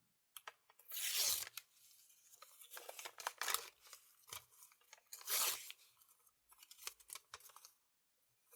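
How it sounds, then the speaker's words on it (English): Gift wrapping paper rips open in several bursts of tearing and crinkling, close and fairly loud, separated by brief quieter rustles, with no talk. "Yeah, rip right into the paper."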